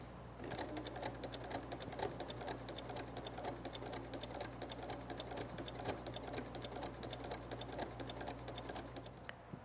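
A domestic sewing machine stitching in the ditch on a quilted fall table runner gives a steady, rapid mechanical clatter with a low motor hum underneath, continuous and moderately distant, with no talking.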